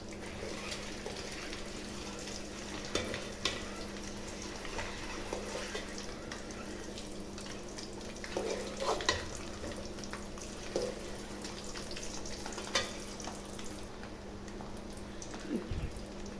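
Egg frying in a pan with garlic masala, a steady close sizzle running throughout with faint scraping and small crackles now and then, no talking.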